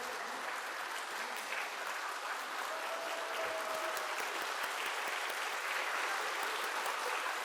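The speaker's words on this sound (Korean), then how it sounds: "박수 쳐 주세요." Congregation clapping during a Sunday worship service at a church, a steady wash of many hands that holds fairly even and moderately distant throughout.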